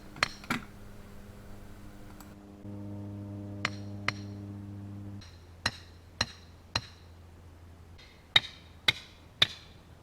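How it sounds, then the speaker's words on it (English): A stake is pounded into the ground beside rebar for a sheet-metal pond sea wall, with about a dozen sharp metallic strikes, some ringing briefly, spaced irregularly over a low steady hum. "After getting the 4 rebars set, I want to pound in my first stake."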